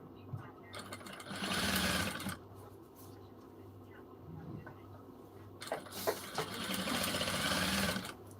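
A sewing machine stitches a puff sleeve on a silk saree, running in two short bursts of quick mechanical whirring separated by a quieter pause, close and fairly soft.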